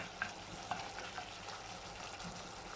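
Beef stir-frying in a pan for a Thai massaman curry, a moderate steady sizzle with a few soft spatula scrapes and clicks.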